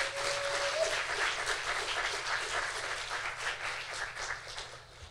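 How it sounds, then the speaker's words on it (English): An audience in a law chapel gives warm, sustained applause, with many hands clapping together in a dense, even wash that fades slightly toward the end. "Let's give one more round of applause for all of our speakers"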